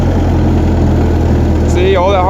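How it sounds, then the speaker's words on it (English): An old refurbished tractor engine idles loudly with a steady low rattling rumble close by, and a voice starts speaking near the end. "Gotta love the sound of a good old engine rattling up like that."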